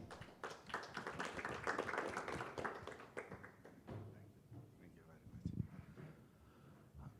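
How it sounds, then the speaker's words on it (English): Distant applause from a crowd at a venture capital panel rises and fades over several seconds, with voices talking over the tail end. "Applause."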